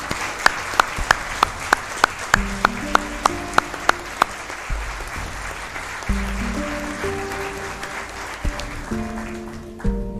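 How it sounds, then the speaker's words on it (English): An audience at a city meeting applauds for people who saved a life, with a few sharp nearby claps standing out over broad crowd clapping as music with a steady beat fades in underneath. "Round of applause, please."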